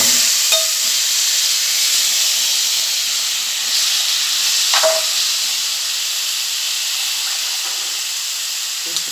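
A steady hiss and sizzle of marinated chicken wings frying in a pan, constant and close, with a few faint clinks, no talking.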